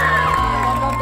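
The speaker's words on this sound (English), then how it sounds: "And that is the cheering of the greenhouse" A crowd at a school boys' football match between green and red houses cheers loudly for the winning green house team, a brief burst of shouts and whoops close by.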